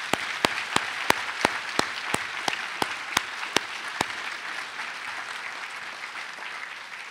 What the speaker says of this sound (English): join me in wildly applauding all of them